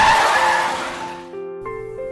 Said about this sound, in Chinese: 她突然来了个急刹车